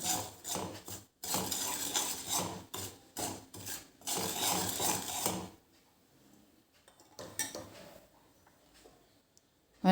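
Two tablespoons of dabeli masala are stirred into hot oil in a pan: close, rasping scrape strokes in quick bursts for about five seconds, then near quiet with a few faint scrapes.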